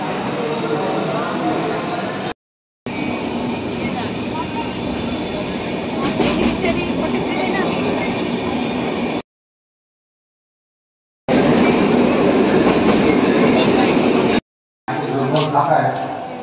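A train runs on rails, a loud continuous rumble with rhythmic wheel clatter heard from close by, cut by brief gaps, with voices talking over the sound.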